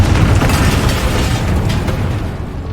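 Confringo spell blast in Hogwarts Legacy during a final boss fight, a loud, dense rumbling explosion that fills the whole stretch and slowly fades, with no talk.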